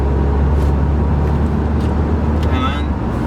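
A 2012 Lancia Delta 1.6 Multijet Selectronic diesel drops a gear on the move, a steady engine and road drone with a brief rising whine near the end, under background talk.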